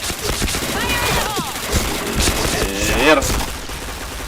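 Rapid gunfire from the shooter game Point Blank, dense bursts and repeated shots running throughout, with excited voices talking over the shooting.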